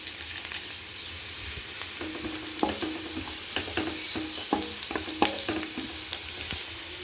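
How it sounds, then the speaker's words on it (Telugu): Tempering spices crackle and fry in hot oil in a pan along with chopped onion, a steady sizzle broken by sharp pops and spatters, with occasional stirring clinks. "వన్ టేబుల్ స్పూన్ పోపు దినుసులు వేసుకుందాం"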